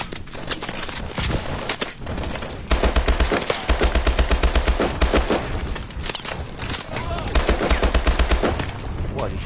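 Rapid automatic gunfire from a video game rattles in tight bursts with brief pauses in between, loud and close, after a weapon switch.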